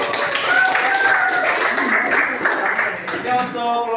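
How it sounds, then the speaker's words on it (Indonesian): Classroom students applaud a group's presentation with dense, steady clapping that thins out toward the end, with voices mixed in. "terima kasih tepuk tangan"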